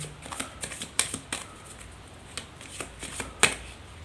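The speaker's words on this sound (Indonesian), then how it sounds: "Saya shuffle terlebih dahulu." Tarot cards shuffled by hand during a reading, a close, quiet run of crisp riffling clicks and slaps in irregular bursts, with no talk.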